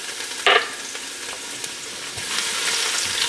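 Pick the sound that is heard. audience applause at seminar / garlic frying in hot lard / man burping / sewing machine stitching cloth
garlic frying in hot lard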